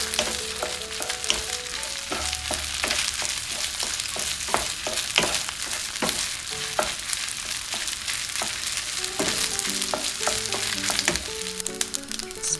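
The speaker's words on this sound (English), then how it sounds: "Turn up the heat and stir fry everything quickly over high heat." Rice and egg mixture stir-fried over high heat, a steady loud sizzle with quick scraping and tapping of a spatula against the pan, no voices.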